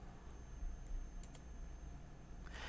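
Soft, quiet clicks from a computer keyboard come in a few scattered bursts over a faint background hiss, with no voices.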